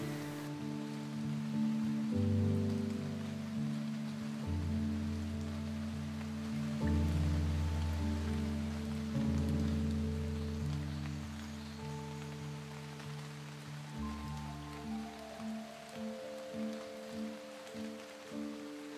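Steady rain patters softly on surfaces, a rainy-day ambience beneath slow, sustained music chords that shift every few seconds and dominate the foreground.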